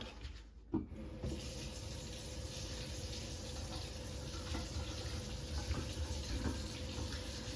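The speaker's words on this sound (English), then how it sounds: "I'm just going to test it by running hot water from the top, or cold water" Tap water runs steadily into a sink, a constant rushing splash after a brief clunk at the start.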